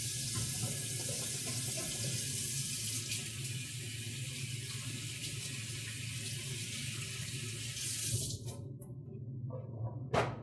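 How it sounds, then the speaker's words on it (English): A kitchen tap runs steadily for about eight seconds while hands are washed beneath it, then shuts off, leaving a few faint drips and clinks. "let me just wash my hands a little"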